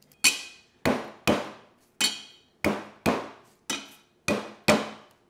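A knife finely chopping garlic on a board, giving about ten crisp, evenly spaced strokes roughly every half second, close and clear with no talking.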